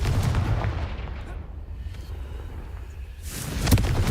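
Confringo fire spells cast in the Hogwarts Legacy video game, heard as loud booming blasts with rumbling low-end, one burst opening the clip and another striking near the end.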